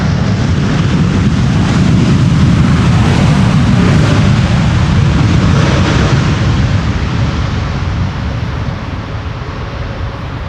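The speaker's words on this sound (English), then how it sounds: "Nicely using the reverser 7878 Dreamliner" A Boeing 787 Dreamliner lands at Amsterdam Schiphol on runway 18R in a crosswind, with thrust reversers engaged. The result is a loud, sustained low roar with wind buffeting that holds steady and then slowly eases toward the end, and no voices.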